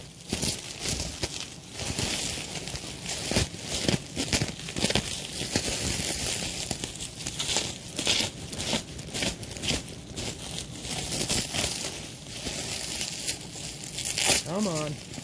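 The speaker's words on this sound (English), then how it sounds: "Now I'm gonna cut this violently and vigorously." Cardboard box packaging for a 2004 Bissell PowerForce 3522-1 bagged upright vacuum being cut open, with steady crinkling, tearing and scraping at close range, carrying on continuously while someone talks over it.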